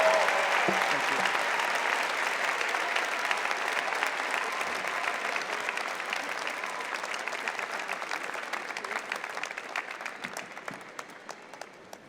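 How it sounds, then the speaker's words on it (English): Sustained applause from a crowd at a university graduate student commencement ceremony, dense and steady clapping that fades slightly toward the end. "Let's give him one more round of applause."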